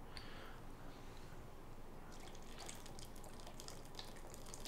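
Coconut water pours in a steady, faint stream for a juice recipe, a continuous trickle with a few splashy drips toward the end and no one speaking.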